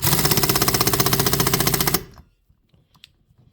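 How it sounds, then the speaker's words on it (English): An impact wrench hammers loose the flywheel nut on a Stihl 038 chainsaw in a loud, rapid, close burst of about two seconds, then stops, leaving near silence with faint handling clicks. "I'll get my impact, I'll get a socket for that, and let's give it a little brap brap, and it should come right off."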